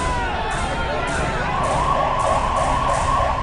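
Amid crowd murmur and street noise during violent unrest in Jugsalai, Jamshedpur, India, a police siren rises into a repeating wail partway through, moderately loud and continuing to the end.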